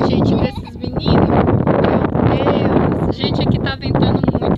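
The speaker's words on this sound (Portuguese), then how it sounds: "aqui tá ventando muito, tá um pouquinho frio" Heavy wind buffeting the microphone outdoors on a cold day, with low rumbling gusts throughout, while a person talks over it.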